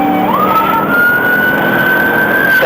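Police car siren wailing during a pursuit, a single loud rising tone that holds steady and then drops, over constant road and engine noise.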